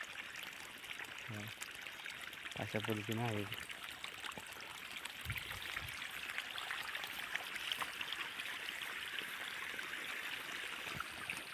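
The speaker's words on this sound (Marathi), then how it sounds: "बघा आता हे पाणी सुरू केलं आहे" Irrigation water flowing into a wheat field, a steady faint trickling and rushing wash under someone talking and a few brief bird chirps.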